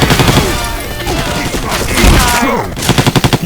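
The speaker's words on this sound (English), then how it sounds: "Shoot that zombie in the back." Gunfire in the zombie shooter Left 4 Dead 2, loud rapid bursts and booming shots in a dense stretch of game action, ending in a quick rhythmic volley of distinct shots.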